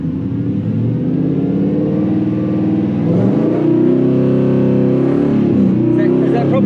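A Mazda ute fitted with a 3UZ V8 and five-speed A650 automatic pulls away from walking pace, its engine drone steady and then rising in pitch and loudness as it accelerates, with voices talking over it.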